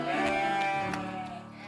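A sheep bleats in a cartoon setting, a few wavering, drawn-out calls close by that repeat in short bursts and fade slightly toward the end.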